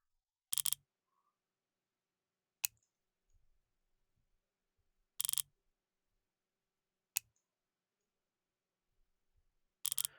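A torque wrench gives sharp, isolated clicks while tightening bolts in a pattern on a vehicle during clutch work, about five crisp snaps spaced a couple of seconds apart in a quiet garage, with no talk.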